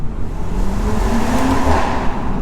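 A stage 1 tuned 2018 BMW M140i revs up under hard acceleration, a deep throaty drone rising in pitch, heard from inside the car, loud and continuous.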